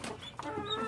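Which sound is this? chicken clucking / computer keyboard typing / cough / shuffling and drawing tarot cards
chicken clucking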